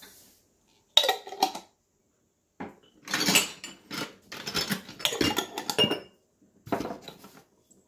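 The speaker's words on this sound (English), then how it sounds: "we need to find some lids for these jars" Glass jars and their lids handled while searching for matching lids in a kitchen, a few bursts of clinking and rattling separated by quiet pauses, no talk.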